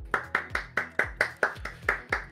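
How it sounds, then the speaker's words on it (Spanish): A brief round of hand clapping from a small audience at a Spanish-language esports history workshop, a steady run of about ten distinct claps, moderately close and alone without talk. "Un aplauso para Critical."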